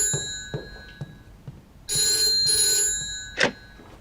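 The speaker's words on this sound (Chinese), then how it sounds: "我先接一电话" An old-style telephone bell rings in short bursts, with a long sustained ring in the middle and another brief ring after it, clear and close in an otherwise quiet room.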